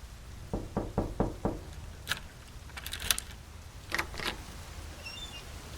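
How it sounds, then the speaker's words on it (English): Knuckles rap on a front door in a burst of five quick, evenly spaced knocks, close and fairly loud, followed by a few fainter scattered clicks and taps with no voices. "Then, she knocked."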